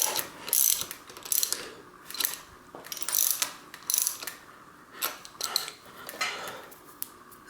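Ratchet wrench tightening bolts on a seatpost clamp, brisk close-up clicking in repeated bursts of ratcheting strokes with short pauses between them.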